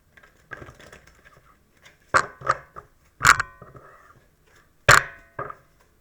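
A deck of tarot cards is shuffled close by: a few soft rustles, then several sharp, crisp riffling bursts separated by short pauses.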